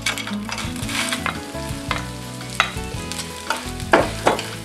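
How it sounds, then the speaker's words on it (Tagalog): Dried anchovies (dilis) frying in a small amount of oil in a pan, a steady close sizzle broken by repeated scraping and stirring knocks, with no voices. "Maglagay tayo ng kaunting mantika sa kawali na sapat lamang sa dami ng ating isasangag na dilis."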